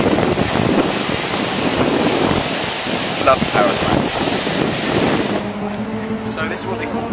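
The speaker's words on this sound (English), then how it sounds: "if you ever do get to listen to the sound of water, it sounds amazing" Water rushing beneath a bridge over the Seine in Paris, a loud steady broadband wash mixed with wind buffeting, easing off near the end as quieter background sounds emerge.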